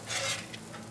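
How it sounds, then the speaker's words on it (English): Food cooking in a pan for dinner in a Kentucky motel room, a stirring and scraping sound with a soft sizzle over one short stretch, close and fairly quiet. "Cooking now."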